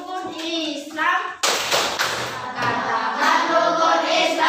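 Children in an Islamic studies primary classroom chant together and clap in rhythm, a loud burst of claps and voices joining partway through and continuing as a group chant.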